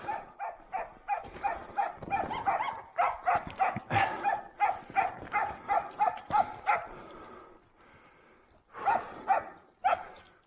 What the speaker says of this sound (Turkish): Köpeklerimiz geliyor.